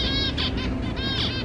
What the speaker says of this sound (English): Oh, those birds are, I don't really like birds, but they're pretty looking, aren't they?